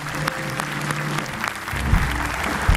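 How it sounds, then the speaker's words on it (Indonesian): Studio audience applauding on an Indonesian television talk show, sustained crowd clapping with music swelling underneath toward the end and a few louder hits. "Tepuk tangan."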